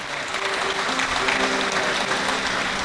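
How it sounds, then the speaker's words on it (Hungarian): Audience applause after a Gypsy band and singer perform at a Hungarian folk song evening, steady sustained clapping filling the hall with a faint lingering musical tone underneath. "Jár a taps."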